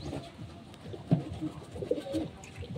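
Pigeons coo softly in the section of their loft, low throaty calls overlapping close by over a light rustling background.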